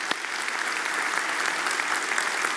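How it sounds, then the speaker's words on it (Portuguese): A congregation at a Brazilian religious TV show applauds continuously, a close, even wash of clapping that holds steady the whole time. "Vamos aplaudi-lo, né, pessoal?"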